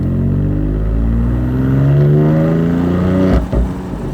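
A 2020 BMW M4 Cabriolet Competition in sport mode, its engine loud and close as revs climb steadily in a smooth rising drone, then a sharp crackle and brief dip near the end before the engine note resumes.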